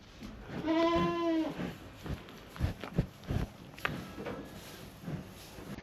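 Goats in a ranch herd bleating, one loud wavering bleat up close followed by scattered footsteps, rustling and thumps of animals moving nearby.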